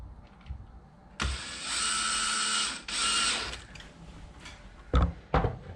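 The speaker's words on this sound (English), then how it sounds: "Now we're going to flip it on side, put the screws in" A power driver sets screws into the plastic chassis of a Traxxas X-Maxx 8S RC car, giving two sustained whirring bursts of about a second each at close range. Sharp clicks and clunks of handling follow, with no talking.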